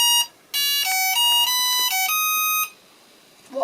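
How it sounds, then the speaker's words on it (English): A retro Astro Wars tabletop electronic game gives out a quick run of shrill electronic beeps at shifting pitches. The tones come close and loud, then stop, leaving near silence. "What are those high-pitched beeps supposed to mean?"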